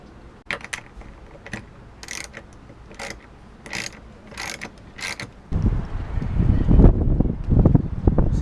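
Nuts being tightened onto bolts fitting sailboat deck hardware bedded in butyl: a series of short metallic clicks and ratcheting bursts, close by, followed by louder scraping, grinding handling noise near the end.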